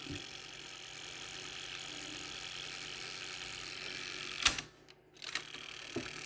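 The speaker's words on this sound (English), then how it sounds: "Let's fast forward." Pioneer CT-F650 cassette deck with no belt on the flywheel, running in fast forward as a steady whirring mechanical drone that stops abruptly near the end, followed by a couple of clicks.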